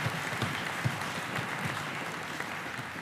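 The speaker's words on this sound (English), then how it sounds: "Can we give them one more round of applause, please?" Steady applause from a concert audience for a combined high school orchestra at a spring concert, dense clapping sustained throughout without a break.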